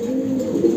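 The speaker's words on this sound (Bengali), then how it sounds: "আমাদের অনেক কবুতরই আছে।" Domestic pigeons of several breeds, including red checker and grizzle birds kept by a breeder, coo close by in a low, steady, throaty murmur with no other sounds.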